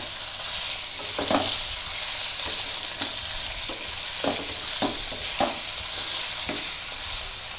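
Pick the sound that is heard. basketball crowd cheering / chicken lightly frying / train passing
chicken lightly frying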